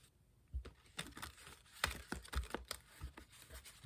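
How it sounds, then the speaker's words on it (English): Crisp papery shuffling and riffling of tarot cards, a quick series of soft slaps and flutters, close up and fairly quiet with no talking. "One more shuffle."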